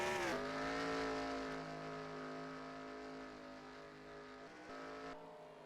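Stock race cars at North Wilkes roar steadily around the track, a sustained engine drone with strong tonal harmonics that shifts pitch slightly as cars pass, heard from a distance and fairly faint.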